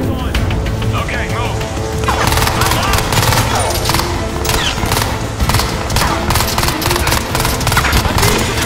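Weapons fire rattles in the video game Crysis 3: loud, dense bursts of automatic gunfire with sharp impacts and crashes, continuous throughout, with game voices talking amid the shooting.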